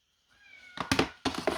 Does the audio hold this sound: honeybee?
no